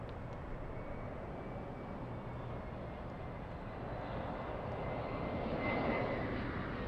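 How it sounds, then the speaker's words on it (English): An Air France airplane taking off at LAX, a broad, steady engine roar heard from a distance that swells slightly louder toward the end, with no talking. "Air France, by the way, the takeoff"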